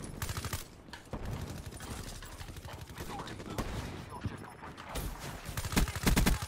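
Rapid bursts of Weevil rifle fire in Call of Duty: Black Ops III, dense and continuous across the clip, heaviest near the end, with game sounds mixed in.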